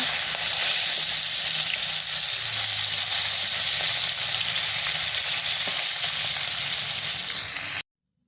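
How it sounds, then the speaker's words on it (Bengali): Fish pieces frying in hot oil in a pan, a loud, steady, dense sizzle that hisses continuously and close up, then cuts off abruptly near the end. "আর এক পিঠে আমি উল্টে দিয়ে ভালো করে লাল লাল করে প্রতিটি মাছ ভেজে নেব"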